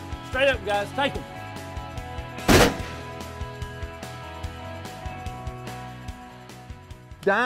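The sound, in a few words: shotgun shot while duck hunting in a rice field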